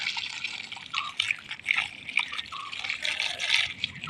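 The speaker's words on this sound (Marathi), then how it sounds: "तिकडूनचा पाईप बंद केल्याशिवाय इकडे पाणीच नाही जास्त येणार." Water runs from a garden hose onto plant pots outdoors, a steady close splashing trickle that surges and eases without pause, with no voices.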